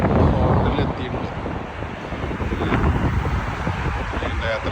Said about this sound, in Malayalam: ശക്തമായ കാറ്റുണ്ട്.